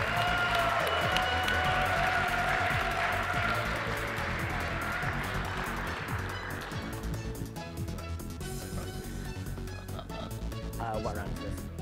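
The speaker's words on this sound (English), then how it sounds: "can we have a round of applause for our final two teams of Battlecode" Audience applauding the two finalist teams at the Battlecode 2018 final tournament, loud sustained clapping with some cheering that fades over several seconds as voices and stage sounds take over.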